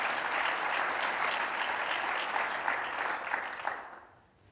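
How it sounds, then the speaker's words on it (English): A church congregation gives a clap offering to the Lord, sustained dense applause from many hands filling the room, steady and fairly loud before tapering off at the end. "Why don't we give the Lord a clap offering, thanking him for his goodness."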